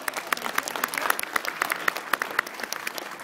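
A round of applause from a crowd, with distinct sharp claps close by over a dense wash of clapping, steady for a few seconds.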